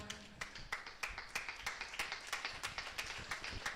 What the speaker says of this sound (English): I expect a resounding round of applause for Mr. Naganayak K.